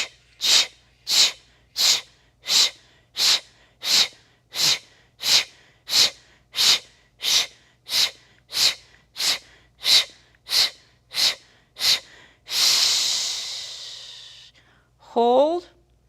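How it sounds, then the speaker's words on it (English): Slow, deep rhythmic breathing during a gentle yoga exercise, about twenty even breaths in steady succession, followed by one long drawn-out exhale and a brief final breath, close and clear with no talking. "Exhale slowly."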